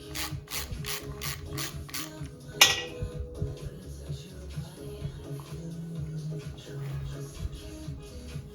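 A hand ratchet loosens bolts on a Kawasaki ZX6R motorcycle, giving a run of quick, close clicking pawl strokes, then a sharp clack and quieter fiddling and shuffling sounds.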